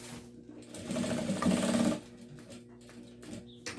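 A sewing machine stitches a delivery bag in a short burst, a fast close whirring rattle of about a second, followed by quieter handling clicks and fabric sounds, no talking.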